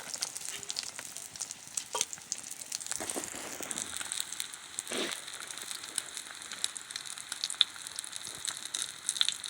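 Pancake batter frying in a pan, a soft, steady sizzle with light crackles running throughout, close and moderately quiet, with no talking.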